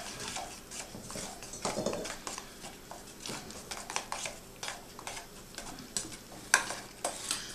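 Homemade horseradish being stirred and mixed by hand, a steady run of soft scraping and clicking strokes with sharper taps now and then, close and fairly quiet, no talking.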